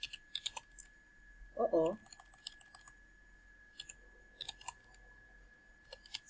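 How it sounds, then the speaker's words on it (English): Light tapping on a computer keyboard while entering menu text, scattered clicks in short bursts with pauses, quiet and close, over a steady electrical hum; a person briefly murmurs. "I'm going to type the information"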